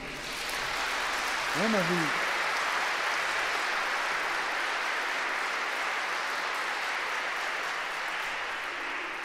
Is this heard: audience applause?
yes